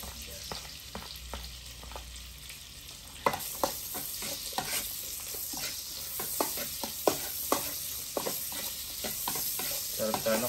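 Garlic and onion sauté in a hot pan, a steady close sizzle broken by sharp clacks and scrapes of a spoon stirring, with no voices.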